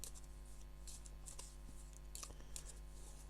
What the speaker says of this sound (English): So I've got the cards here. I'm just shuffling them a little bit.